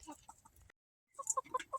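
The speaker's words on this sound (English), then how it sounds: "You crazy looking chicken." A hen makes short clucks and soft calls close by, a brief burst, a pause of silence, then a louder run of clipped, pitched clucks.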